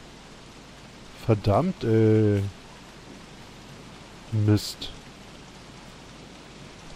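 Steady rain hisses softly and continuously in the survival video game Don't Starve: Reign of Giants, with someone talking briefly over it.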